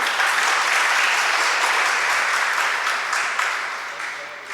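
Listeners at a religious sermon clap together in a thick, continuous burst of applause that stays strong and then gradually tapers off.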